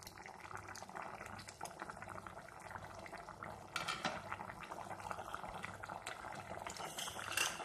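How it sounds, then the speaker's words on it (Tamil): Soft, steady bubbling of a drumstick curry simmering in a pot, with faint pops and gentle rumbling throughout, fairly quiet and close. "ஒரு 2 நிமிஷம் வந்து நல்லா கொதிக்க விடலாம்."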